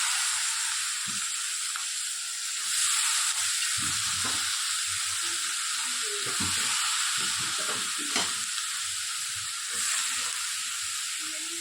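Cabbage and potatoes stir-frying in a pan with green garlic, green turmeric and green chillies: a steady bright sizzle throughout, with irregular soft scraping and stirring knocks from a spatula.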